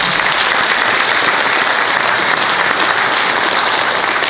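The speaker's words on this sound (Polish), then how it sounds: "Ogromne brawa, proszę Państwa." Audience applause fills a gala for the NECROEXPO funeral trade fair in Poland, a dense, steady clapping from a large crowd that stays loud throughout without letting up.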